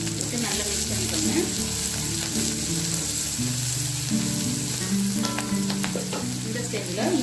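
Chopped big onions and a single green chili stir-fried in a pan for gobi manchurian, a steady loud sizzle with scraping spoon strokes throughout, no talking.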